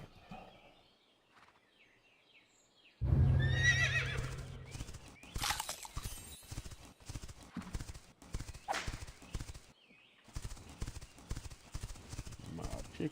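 Wild horse in The Quinfall video game neighing with clopping hooves, loud and close, mixed with game sounds and someone talking over it.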